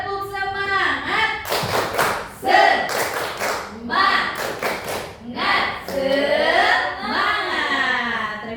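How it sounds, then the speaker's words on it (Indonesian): A group performs a rhythmic spirit clap, crisp bursts of unified clapping alternating with chanted voices in a lively, loud pattern. "Coba deh tepuk semangatnya dulu."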